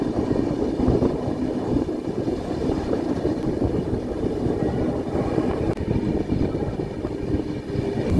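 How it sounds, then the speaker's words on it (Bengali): The Kanchan Kanya Express runs through forest as a constant loud rumble and rattle of carriages on rails, with wind buffeting the microphone and no break in the noise. "আবার একটা সুন্দর কার্ভ নিচ্ছে ট্রেনটা"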